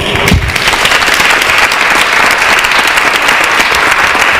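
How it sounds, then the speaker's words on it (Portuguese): A crowd gives loud, sustained applause at a live event, dense clapping close by that continues at an even level from start to finish. "vamos aplaudir?"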